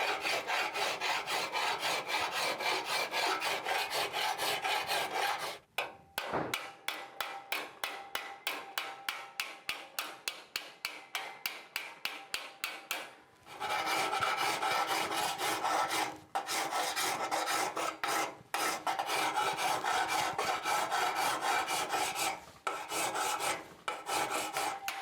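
A second cut engineer's file rasps across a metal part of a flatbed pedal car being finished, steady back-and-forth strokes close up, with a stretch of quicker rhythmic strokes in the middle and brief pauses between passes.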